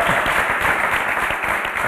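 A live show audience bursts into dense, steady applause, many hands clapping together in a loud continuous wash.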